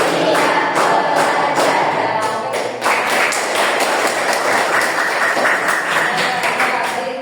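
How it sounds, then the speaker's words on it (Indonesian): A classroom of students clapping together in a counted rhythm at a teaching session, loud, dense and close, with brief breaks between clapping bursts and a few voices mixed in. "1 tepuk, 2 tepuk, 3 tepuk, 4 tepuk, 5"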